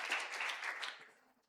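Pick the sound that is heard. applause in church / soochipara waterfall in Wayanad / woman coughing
applause in church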